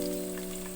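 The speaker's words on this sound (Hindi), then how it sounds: "ऑयल हमारा गर्म हो जाएगा तो हम इसमें प्याज डालेंगे।" Onions are added to hot oil in a cooking pan, giving a brief steady hiss and sizzle heard close up, with a faint background hum and no talking.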